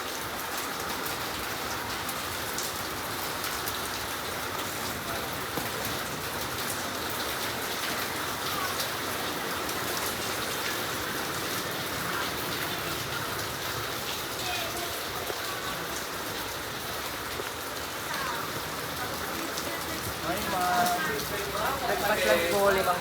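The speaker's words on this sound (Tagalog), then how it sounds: "Ulan na." Steady rain falls across an open Philippine palengke, a dense continuous patter on stalls and surfaces, with voices of vendors and shoppers talking faintly beneath it.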